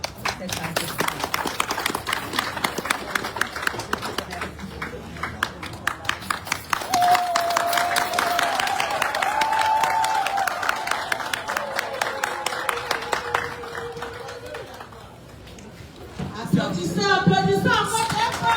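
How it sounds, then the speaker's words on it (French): Applause from an audience at a foundation's first-anniversary ceremony, a dense patter of many hands clapping continuously and fairly loud, with crowd noise, voices and music mixed in. "Applaudissez encore très fort."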